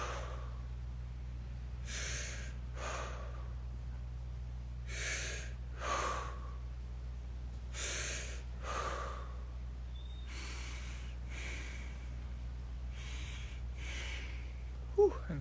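Slow, deep breaths drawn and released during a facial fascia exercise, a series of soft airy inhales and exhales in a quiet room, with no talking.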